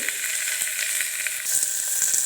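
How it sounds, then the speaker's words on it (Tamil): Fenugreek seeds fry in a pan with onion, curry leaves and chili, making a continuous bright sizzle that holds steady and grows slightly louder partway through. "பாருங்கள் நல்லா பொரிய ஆரம்பிச்சிருச்சு"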